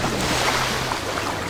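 Rushing waterfall water in the GTA V video game, a loud, steady broadband roar like surf or wind, continuous with no pauses or voices.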